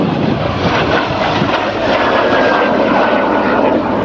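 A Morane-Saulnier aircraft engine drones loudly and steadily as the plane passes, a dense continuous roar with a slowly shifting whine, with no voices present.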